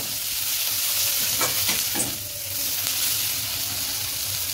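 A spoon stirs spices and turmeric powder in a hot pan for a Chhattisgarhi saag, producing a continuous close sizzle and frying hiss with scraping strokes partway through.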